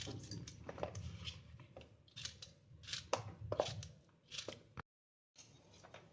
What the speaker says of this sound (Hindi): इसी तरह से सारे पीसीज हम छोटे छोटे काट लेंगे।